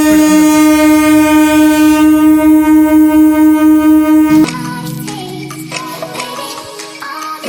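A loud, steady tonal horn or hum from a train standing at a station pulses for several seconds, then stops abruptly and leaves clattering and rumbling platform noise.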